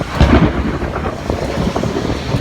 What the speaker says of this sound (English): It's gonna thunder in